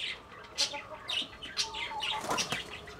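Backyard laying hens, a flock of about ten to eighteen with no rooster, flap their wings in soft bursts and give faint clucks and chirps, quiet and scattered over a few seconds.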